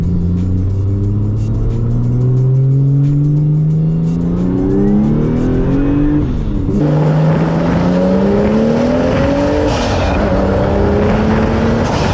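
Toyota JZX100 engine, just warmed up, revving hard as the car accelerates, with rising harmonic tones climbing through two gear pulls, a brief dip between them, loud and close with steady road rumble and no talk.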